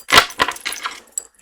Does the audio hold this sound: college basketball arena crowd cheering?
no